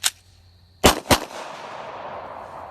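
Gunshots fired at a creature caught on a trail camera at night: three sharp cracks, one alone and then a close pair, each fading into a faint echo.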